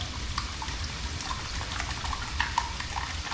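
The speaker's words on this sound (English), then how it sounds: "So we're going to scramble this up" Eggs are whisked with a small whisk, making soft, rapid wet clicking and sloshing that runs steadily for a few seconds at low volume.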